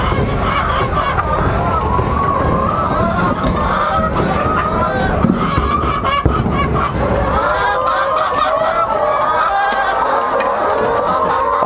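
Pastured chickens on a farm cluck and squawk as a dense, continuous flock, loud and close, with a few voices mixed into the steady poultry chatter.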